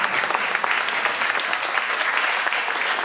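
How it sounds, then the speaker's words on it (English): Sustained applause from an audience at a county supervisor's annual report, many hands clapping steadily at close range with no speech over it. "Give them a round of applause."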